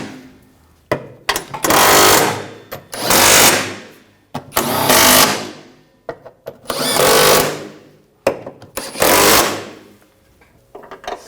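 Tools tightening the transmission pan bolts on a 2007-2013 BMW X5, heard as loud repeated bursts of whirring ratchet or power-tool action, about five long runs separated by short pauses and clicks.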